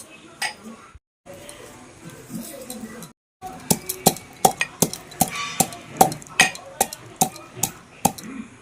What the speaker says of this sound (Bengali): এবার হামানদিস্তার মধ্যে দিয়ে এটাকে গুঁড়ো করে নেব